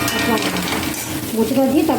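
Close, loud sizzling of spices and ginger frying in a pan, mixed with the scrape and clatter of stirring.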